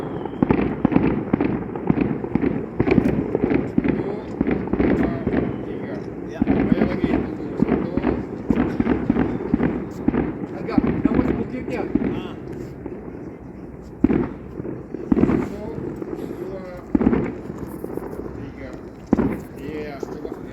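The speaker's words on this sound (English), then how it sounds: "fireworks from a wedding party" Rapid bursts of firecrackers and fireworks from a wedding party at Wujiang, China, crackle and pop in irregular volleys, loud and close, with voices talking underneath.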